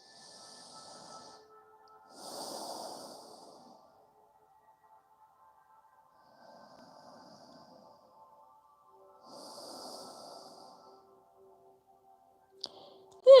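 Slow, soft breathing through the nose during a seated yoga stretch, a few faint hissing inhales and exhales spaced several seconds apart, close and quiet, ending with a brief click.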